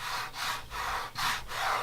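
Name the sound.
rubbing the rough texture of Duplicolor truck bed coating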